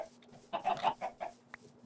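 A Minecraft chicken clucks in a short burst of several quick, close, moderately loud clucks, followed by a softer single note, alone over quiet game ambience.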